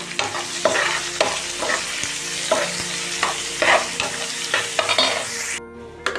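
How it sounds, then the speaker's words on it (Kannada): Green chillies, curry leaves and onion fry in a hot pan, a steady sizzle broken every second or so by the scrape of a stirring spoon, close and with no talk. "ಮೆಣಸಿನ್ಕಾಯಿ, ಕರಿಬೇವು, ಈರುಳ್ಳಿ ಹಾಕ್ಬಿಟ್ಟು ಚೆನ್ನಾಗಿ ಫ್ರೈ ಮಾಡಿ."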